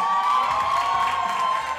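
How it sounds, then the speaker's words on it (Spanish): A crowd at a live dance battle event cheers and applauds for the Caracas mayor's office, a loud sustained roar of whoops and shouts mixed with clapping and no clear speech. "Un aplauso también, muchachos, que se escuche fuerte para la alcaldía de Caracas."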